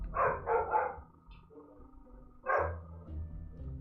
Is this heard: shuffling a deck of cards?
no